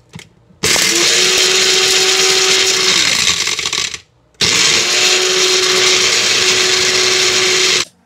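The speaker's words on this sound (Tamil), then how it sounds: "அதோட ஜாரில் முதல்ல இந்த மிளகாயும் கருவேப்பிலையும் எடுத்து போட்டு ஒரு அரை அரைச்சிக்கலாங்க." A kitchen mixer grinder grinds dried red chilies and curry leaves in two loud, close bursts of whirring motor and rattling jar, with a short silent pause between them.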